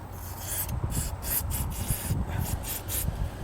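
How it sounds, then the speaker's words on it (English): Short bursts of silicone lube sprayed from a can onto the pivoting and moving parts of a Roadmaster tow bar, several quick hissing spurts close up over faint rubbing and handling noise. "Anything that pivots or moves, we'll go ahead and give a shot of our lube."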